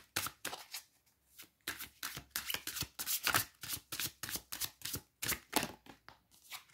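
Tarot cards get shuffled by hand in quick bursts, a crisp riffling flutter repeating many times close up in a quiet room with no talk.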